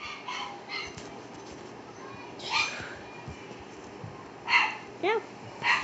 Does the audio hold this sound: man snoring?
no